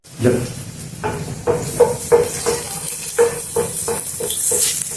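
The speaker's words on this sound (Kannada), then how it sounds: "ಈಗ ಈ ತರಕಾರಿಗಳನ್ನ ಎಣ್ಣೆಯಲ್ಲಿ ಹುರ್ಕೊಳ್ಳೋಣ" Vegetables fry in hot oil with a steady sizzle while a spoon stirs them in a repeated rhythmic scraping, close by and fairly loud.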